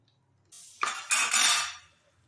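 A spoon scrapes and clinks against a bowl in a few brief bursts while mixing dry fruits into rasmalai ice cream, loud and close with quiet gaps between.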